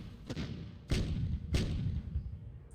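Three heavy artillery thumps land in sequence, each a broad low boom with a sharp onset and a rumbling tail, from a barrage in the wartime strategy game Decisive Campaigns: Ardennes Offensive.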